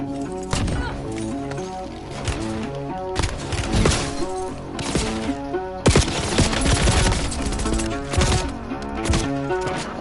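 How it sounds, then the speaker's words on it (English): Gunfire in Call of Duty on PS4, with dense rapid bursts of automatic weapons and sharp repeated shots going on and on at close, loud range, mixed with game effects. "Keep on shooting your teammate."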